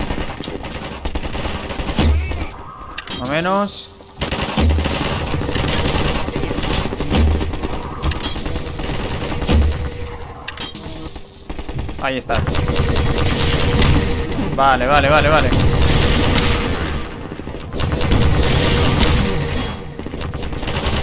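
Rapid bursts of gunfire and rocket blasts rake a towering strider during an urban battle in Half-Life 2, loud and nearly continuous for the whole stretch, with a voice speaking briefly over the din.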